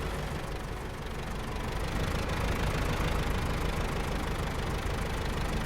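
An Aramatsu Forester truck engine labours in low gear while stuck in mud in SnowRunner, a steady, dense rumbling drone that holds continuously without letup.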